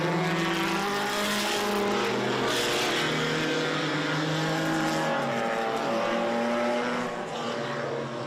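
A vintage race car at Laguna Seca during an SVRA Group 12 race roars continuously and loudly for the whole stretch, its engine drone steady with tire noise over a wide, dense wash of sound.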